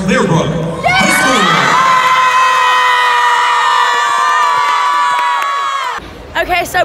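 A crowd at a cheerleading competition roars and screams with high shrill cheering and whoops, a sustained loud wall of noise after an announcer's voice, ending abruptly.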